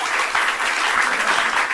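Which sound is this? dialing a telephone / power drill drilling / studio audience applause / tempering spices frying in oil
studio audience applause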